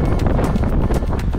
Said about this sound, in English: It got very windy now.